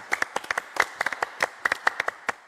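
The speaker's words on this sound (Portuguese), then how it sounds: "Vamos dar uma salva de palmas para o Tarcísio" Scattered, uneven hand claps from an audience honouring a veteran actor at a theatre event, a smallish group clapping in distinct sharp bursts rather than a dense roar, moderately near and with no talk over it.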